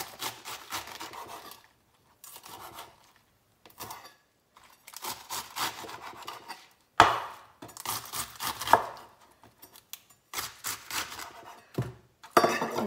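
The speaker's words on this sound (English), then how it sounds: "Now hold it all together and slice this way." A knife slicing through a bundle of romaine lettuce on a cutting board in bursts of crisp, close chopping strokes separated by short pauses, with no talking.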